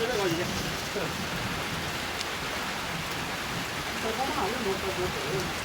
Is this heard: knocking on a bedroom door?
no